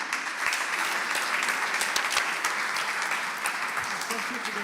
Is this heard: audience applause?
yes